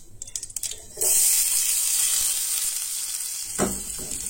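Chopped onion drops into hot oil in a pan for a Goan chana ross and begins to sizzle, a bright, steady frying hiss that starts abruptly after some light clatter, with a brief utensil knock near the end.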